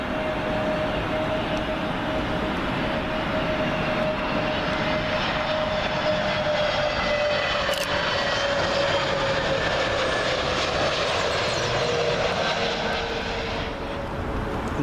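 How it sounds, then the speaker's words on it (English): A Scandinavian Airlines A320neo from Copenhagen comes in to land at Heathrow, a sustained engine roar with a steady whine holding throughout, fairly distant and even, with no voices. "Scandinavian A320neo. This one from Copenhagen."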